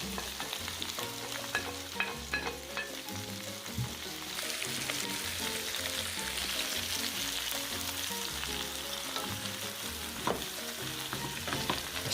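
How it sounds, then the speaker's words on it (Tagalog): Vegetables for pinakbet, including bitter gourd, okra and long green beans, fry in a pan while being stirred steadily, with a continuous sizzle broken by repeated scraping and clattering strokes throughout. "Just keep mixing"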